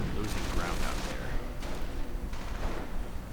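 Dense crackling gunfire and demolition booby-trap explosions from a 1v1 real-time strategy match, a steady, quiet barrage of overlapping shots and bursts with no clear pauses.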